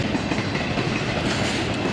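A BNSF-powered train rolls along the Montana Rail Link single track on the former Northern Pacific line near Logan, Montana, with a loud continuous rumbling roar of wheels and cars close by and no talk.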